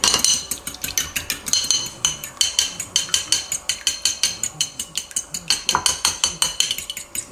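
Eggs with a little water are beaten in a bowl for a cauliflower breading, a fast, even rhythm of close, bright whisk or fork clinks against the bowl, continuing steadily with no talk.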